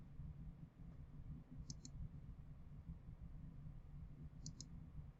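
Two quick mouse double-clicks on a Roblox redeem button, about three seconds apart, crisp and close over a steady low room hum.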